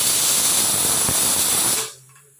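A pressure cooker holding chickpeas with salt, turmeric and water lets out a loud, continuous steam hiss close by, which cuts off abruptly near the end into quiet.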